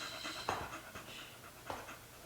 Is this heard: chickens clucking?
no